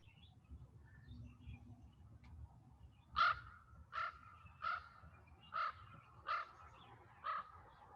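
A crow caws six times in an even series from some distance overhead, each call short and harsh, against a low outdoor background.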